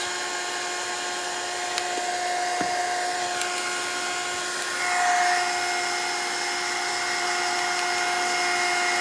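A heat tool drying metallic paint on a mixed-media scrapbook layout gives off a steady, loud whirring blow with a high whine. Its pitch shifts partway through, and no voice is heard.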